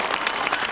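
Crowd applause in a rodeo arena after a bull riding section, a steady wash of clapping across the whole moment with no voices on top.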